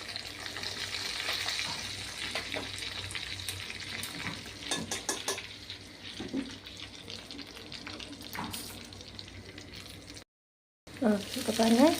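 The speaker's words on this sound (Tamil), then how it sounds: "குருமிளகு ஜீரகம் நல்லா கொஞ்சம் பொரிஞ்சு வரட்டும்." Black pepper and cumin splutter in hot fat for ven pongal, a steady close crackle and sizzle with scattered pops, briefly cut to silence near the end before sizzling resumes.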